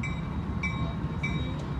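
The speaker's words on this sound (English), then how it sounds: "Here comes the train." A CSX freight train with two engines passes at some distance near a river walk and bridge, giving a steady low rumble with clicks of wheels over rail joints at regular intervals.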